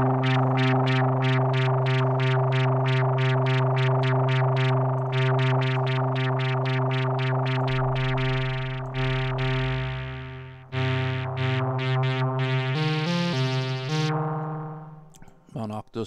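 Bass patch from the Monark synthesizer in Reaktor 6, a steady sustained synth tone with rhythmic pulsing repeated notes that shift pitch partway through, loud and alone.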